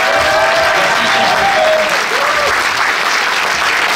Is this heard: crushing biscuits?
no